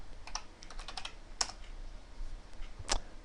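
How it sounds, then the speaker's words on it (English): Quick keystrokes on a computer keyboard as a compiler command is typed, a burst of close clicks followed by two sharper, louder key presses like the enter key, with no talking. "simply type in the name"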